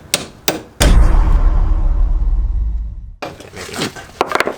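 A few sharp metal hammer strikes ring out on a BMW E30 car, followed by a long low rumble and then more scattered clanks and knocks, fairly close.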